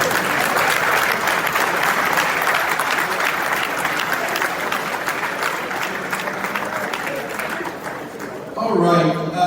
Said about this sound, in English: I'll give you another round of applause for you.